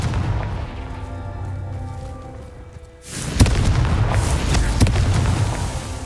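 Confringo fire spell in the video game Hogwarts Legacy, a blast at about three seconds cutting in over a quiet hum, followed by sustained roaring rumble with sharp cracks near the middle and end, loud and close with no voices.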